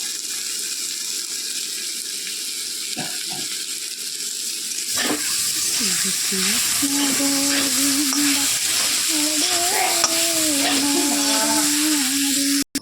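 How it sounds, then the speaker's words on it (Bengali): Yardlong beans stir-frying with cumin powder in a hot pan (kadai), a steady close sizzle that grows louder midway, with stirring scrapes and faint tones in the background. "বরবটি ভাজা মোটামুটি কমপ্লিট এটার মধ্যে একটু জিরের গুঁড়ো দিয়ে দেবো"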